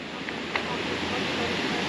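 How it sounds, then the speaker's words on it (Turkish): A continuous broad rush of water flowing from streams and waterfalls in the Lauterbrunnen valley fills the air, steady and even, with a faint brief knock partway through. "Her taraftan dediğim gibi su sesi geliyor."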